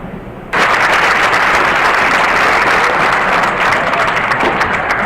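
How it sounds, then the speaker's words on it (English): Fans at a girls' JV basketball game break into sustained clapping that starts suddenly and holds steady and loud, filling a gym with dense applause. "Fans must enjoy this. They're clapping."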